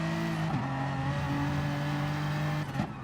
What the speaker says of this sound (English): Slamming on the brakes